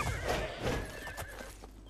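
A horse in the video game Oblivion whinnies, a near, mid-loud neigh with a shaky upper tone running under a soft clip-clop of hooves, heard alone across two seconds.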